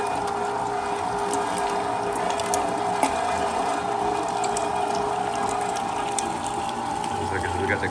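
A meat grinder churns semi-frozen pork butt for sausage with a steady whirring, clattering mechanical drone throughout, a faint voice talking beneath it.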